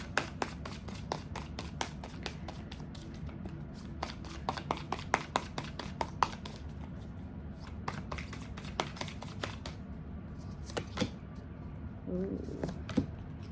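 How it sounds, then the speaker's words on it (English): Animal Spirit oracle cards are shuffled and drawn by hand, a rapid run of crisp riffling flicks and soft card slaps, close and fairly quiet, continuing steadily for several seconds. "I'm going to go ahead and pull 2 of the Animal Spirit Oracle cards."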